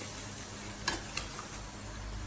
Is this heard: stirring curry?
yes